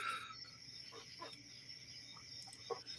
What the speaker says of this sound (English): Is this the sound of crickets?